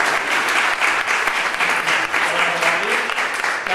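Audience at an improv theatre show applauding a volunteer, loud sustained clapping from a full room, steady throughout with faint voices beneath.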